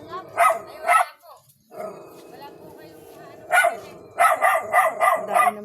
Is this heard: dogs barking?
yes